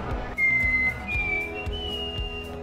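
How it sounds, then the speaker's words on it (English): A man whistles a few notes of a tune, producing thin, sustained tones with short breaks, fairly close and alone, over soft low thumps. "I can whistle really well. I gotta think of a song,"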